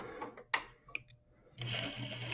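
A sewing machine stitches a half-inch seam on a bias-bound sample, with a few soft clicks and handling taps before the motor starts up into a steady, quiet whirring run at the end.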